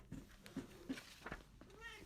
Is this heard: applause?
no